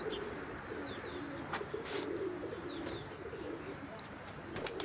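Pet pigeons coo in a low, repeated throaty burble on a rooftop garden, with several birds calling close by and chirps and other faint birdsong scattered above, no talking heard.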